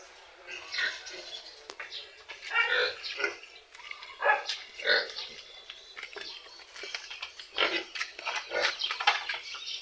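Native pigs, a boar penned with a sow, grunt and squeal repeatedly at close range in irregular bursts, a busy stream of snorting animal noises throughout.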